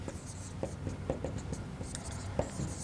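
Chalk or a marker taps and scratches on a board during a university lecture, in short irregular strokes close by, with faint room voices in the background.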